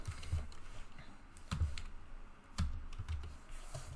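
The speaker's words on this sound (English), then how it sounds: "For instance, if I type," Keys on a computer keyboard are tapped in short, close bursts of clicks with brief pauses between, quiet and alone.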